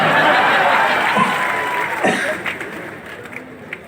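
Couples in a seated audience at a religious discourse clap together, a broad wash of applause that starts full and gradually thins, with scattered chuckles and murmurs among the crowd.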